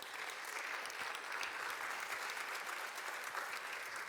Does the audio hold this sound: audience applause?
yes